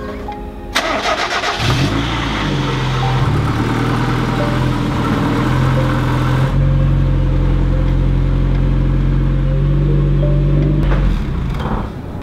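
A Mazda Miata rally car starts up and drives into a garage, its engine idling and revving loud and close with a steady mid-pitched drone that cuts off near the end.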